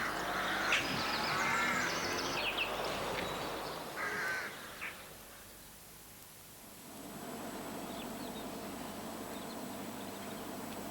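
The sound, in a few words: rooks cawing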